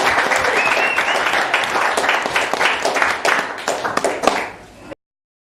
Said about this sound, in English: everyone give a big round of applause for Stewie and Chrissy